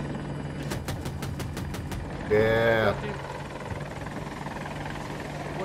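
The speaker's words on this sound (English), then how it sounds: "Attack helicopter." AH-64 Apache attack helicopter in a video game on the Hourglass map, a steady rotor and engine drone under game noise, with a brief loud tonal burst midway and a short spoken word.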